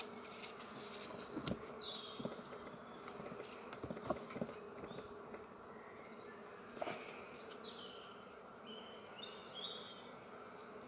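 Honey bees buzz around an open hive during a spring inspection, a soft, constant drone with individual bees zipping past close by, plus occasional light clicks and taps.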